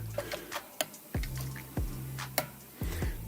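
Hops being mashed down in a brew kettle on brew day, with several soft wet squelches and sharp clicks of scattered knocks against the kettle, close and fairly quiet, with no talk.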